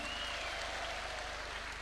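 A crowd at a State House gathering of teachers in Nairobi applauds to welcome a Cabinet Secretary, a steady, even wash of clapping that holds throughout at moderate level.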